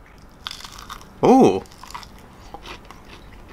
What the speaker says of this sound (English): Nice bit of crunch on the outside.